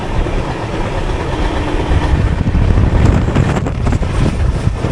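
Kacheguda Madurai Superfast Express running through the countryside, heard from inside an AC 3-tier coach: a loud, steady rumble with rattling and rhythmic wheel clatter throughout.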